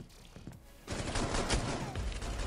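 Shotgun fire in the video game Rainbow Six Siege: after a quieter opening, loud blasts and gunfire erupt close up and continue in a dense, sustained burst.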